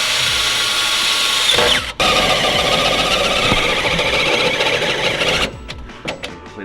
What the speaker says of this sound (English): So we're gonna drill a hole and see if we can kind of just like cross thread it in.